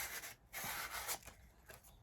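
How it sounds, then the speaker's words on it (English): Sandpaper rubbing against a paper edge on a junk journal card, heard as quiet, close, scratchy strokes in an uneven back-and-forth rhythm with short pauses between passes. "I'm sanding this paper so that it tears"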